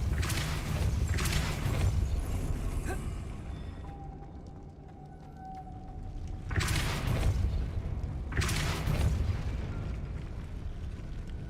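Spells cast in the video game Hogwarts Legacy, including Depulso, come as heavy whooshing bursts with booming impacts. Two pairs of loud blasts sit on either side of a quieter stretch of low rumble with a faint tone.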